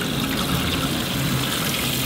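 Water gushing steadily from a tap into a sink aboard a boat, a continuous bright splashing rush heard up close with no talk.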